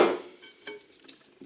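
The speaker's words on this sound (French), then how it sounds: "On va mélanger tout ça." A utensil clinks and scrapes in a large salad bowl while mixing potato tart ingredients, a sharp knock at first and then a few light taps, close and quiet with no voices.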